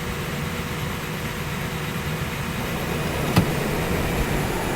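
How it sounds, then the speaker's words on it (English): Twin engines of a DHC-6 Twin Otter spooling down in Microsoft Flight Simulator 2020, a steady loud droning hum with one brief click, no voices. "I'll wait for these engines to power off a bit"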